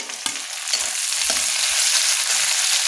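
Capsicum being stir-fried in a pan for a mixed vegetable dish, a loud, continuous sizzle with stirring scrapes after a brief clatter as it goes in.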